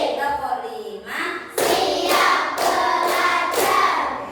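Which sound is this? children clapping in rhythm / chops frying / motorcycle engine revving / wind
children clapping in rhythm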